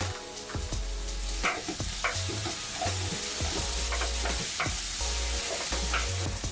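Sandwich stuffing tossed with tomato ketchup in a frying pan, a steady sizzle under repeated stirring scrapes and clacks of a spoon against the pan, close and continuous.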